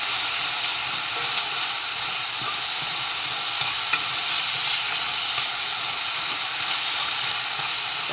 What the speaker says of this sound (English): I want to turn this heat up high and stir fry this quickly